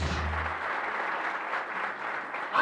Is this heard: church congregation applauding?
yes